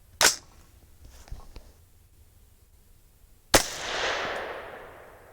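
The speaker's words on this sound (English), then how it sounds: "Wow, that shot went higher." Two suppressed gunshots fired through a SilencerCo Omega 36M suppressor, each a sharp close crack, the second followed by a long fading outdoor echo.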